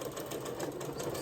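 Sewing machine stitching a fabric band onto a potholder, a quiet steady whirring hum with a fast even needle rhythm throughout.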